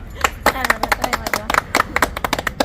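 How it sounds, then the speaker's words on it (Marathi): Scattered hand claps from a small crowd welcoming a woman politician at an election campaign gathering, quick uneven bursts of clapping mixed with talk and voices throughout. "टाळ्या वाजवा"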